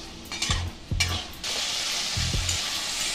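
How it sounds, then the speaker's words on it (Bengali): Tomato and onion fry in a pan for a thin chicken curry: three quick spatula scrapes knock against the pan, then a loud, steady sizzle takes over. "টমেটো আর পেঁয়াজটা ভাজা ভাজা হতেই"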